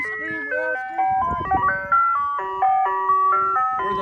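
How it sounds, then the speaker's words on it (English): An ice cream truck out in the desert dunes plays its bright, stepwise electronic jingle loudly and close by, the tune running steadily throughout while people talk over it. "We have an ice cream truck."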